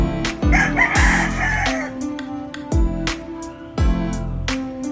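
A broodcock rooster crows loudly several times in close succession, each call bold and harsh, with some background clatter between crows.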